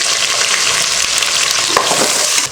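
Cumin, black pepper, cinnamon, cloves, cardamom, star anise, bay leaves, green chillies and onions fry in hot oil for egg biryani, giving a loud, continuous close sizzle with no voices.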